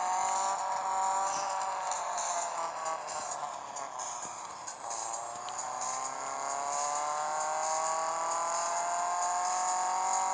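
Car engine whine with tire-squealing drifts in an Android racing video game, a steady high-pitched synthetic drone with rising and falling pitch sweeps, continuous and fairly loud with no talking.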